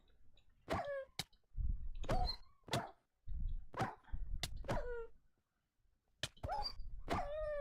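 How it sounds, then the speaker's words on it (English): Wild dogs in modded Minecraft yelp and bark in a string of short, sharp, close cries, separated by brief gaps. "give me a second while I kill these wild dogs that want to attack me"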